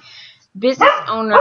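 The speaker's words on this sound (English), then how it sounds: "sorry, that's my dog." A pet dog barks briefly in a room, a short bark near the start that is quickly overtaken by someone talking over it.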